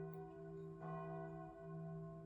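A small bell rings out clearly against a soft, steady background hum, sounding one struck tone near the middle that hangs and slowly fades, with no voices.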